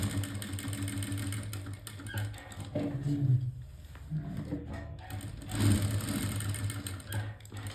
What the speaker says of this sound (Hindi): अब हम इलास्टिक के ऊपर सिलाई लगाएंगे, उसे खींच के कुछ इस तरह से।